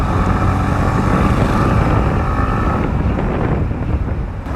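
Wind roar buffeting the microphone while riding a Yamaha MT15 version 2.0 motorcycle on an open road outside the city, a loud continuous rushing rumble that eases slightly toward the end.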